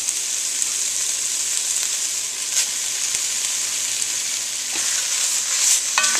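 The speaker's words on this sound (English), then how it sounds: "Once I'm done slicing the sausage up, I'm going to cook it up and melt some more of that fat out of there." Sliced sausage frying on high heat in a pan without oil as its fat renders out: a loud, steady sizzle continues throughout, broken by a few faint utensil scrapes and taps, close-up with no voices.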